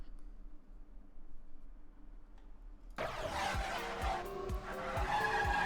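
Racing video game car sounds, with quiet low engine hum at first, then a sudden burst of screeching tire skids and revving that continues moderately loud to the end.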